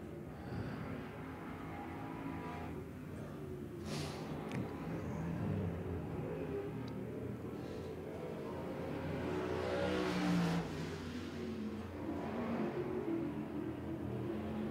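Sportsman race car engine at Smoky Mountain Speedway coming out onto the racetrack, a distant throaty drone that builds and revs louder near the end over faint track ambience.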